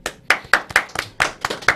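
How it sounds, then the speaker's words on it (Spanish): A few people clapping to welcome interview guests, sparse individual claps in a loose rhythm, close and distinct, with no crowd roar behind them. "Así vamos a recibirlo con fuerte aplauso."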